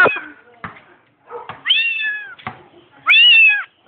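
A cat meows several times, with a long, drawn-out call near the middle and a louder one near the end. Sharp knocks and thumps fall between the calls. No one speaks.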